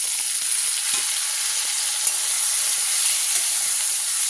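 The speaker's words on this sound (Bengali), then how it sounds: "মশলাটা এবার কষাবো।" Spice paste mixed with water sizzles and fries in oil with fried onion, ginger, garlic and green chilli, a steady dense hiss with faint stirring scrapes, close and continuous with no talk.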